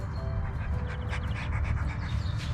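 A puppy panting outdoors, with quick rhythmic breaths heard over steady wind-like background noise, close but soft.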